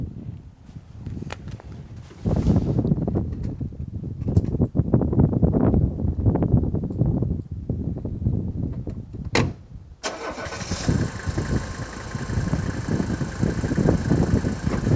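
An old Mercedes car engine, about 40 years old, idles steadily up close with a low, even rumble, briefly catching around the middle before settling into a slightly brighter, rougher idle.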